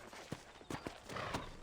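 Horse hooves clip-clop in Red Dead Redemption, a Western video game, as the horse is ridden up to a hitching post, several sharp, fairly close hoof strikes in an uneven walking rhythm over a steady ambient background.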